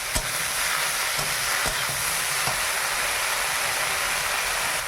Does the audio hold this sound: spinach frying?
yes